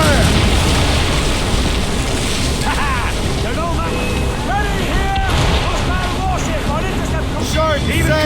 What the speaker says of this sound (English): Cannon fire, slugs!